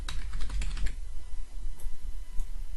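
A new password typed on a computer keyboard, with a quick cluster of close, crisp keystrokes followed by a few sparser taps.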